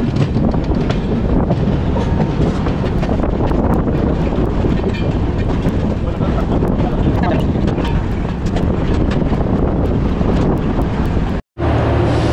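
Train pulling into New Jalpaiguri station, a loud continuous rumble and rattle of railcars with heavy wind buffeting the microphone, briefly cutting out near the end.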